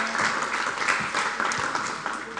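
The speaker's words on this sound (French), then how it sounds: "je vais vous demander d'applaudir" Steady applause from a conference audience, dense continuous clapping throughout at an economic conference, with a faint voice beneath.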